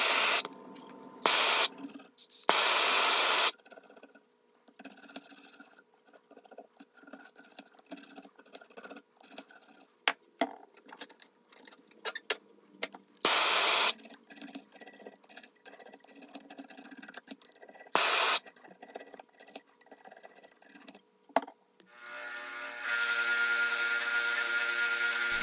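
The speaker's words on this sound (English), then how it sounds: "I'm using the wire brush to get most of the rust and crud off the shank and the ferrule." Wire brush scrubbing rust and crud from an octagonal steel screwdriver shank and ferrule, heard as bursts of harsh scratching strokes with pauses between, fairly close, with no talk.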